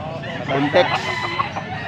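A rooster crows close by amid clucking fowl at a gamecock market in Bocaue, Philippines, with people talking in the background.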